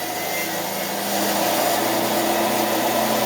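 A pipe threader on reverse spins its die off the end of 1-1/2 inch black steel pipe, a steady loud motor whine and grinding hum that holds constant, growing slightly louder midway.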